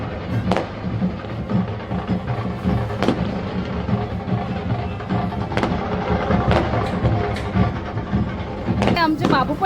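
Sharp firecracker bangs burst out at irregular intervals over a busy crowd with people talking during a Ganesh immersion procession, some cracks louder and closer than others.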